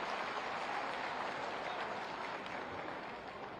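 Steady, dense applause from an audience at a public development-project inauguration event in Bareilly, continuous throughout and fairly faint, with no talking.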